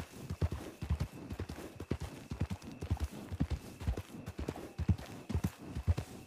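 Horse hooves clip-clopping in a steady walking rhythm in Red Dead Online, several horses including a Tennessee Walker, fairly close and alone without talk.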